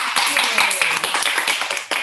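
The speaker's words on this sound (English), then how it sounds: "A round of applause for Good Shepherd Sri Lanka." A round of applause for Good Shepherd Sri Lanka at a live forum for the International Day of the Girl Child, a dense continuous wash of clapping, bright and fairly close, sustained across the whole span.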